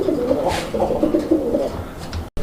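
A pair of coloured Raj Golla pigeons coos repeatedly and close by, soft rolling calls over a steady background hum.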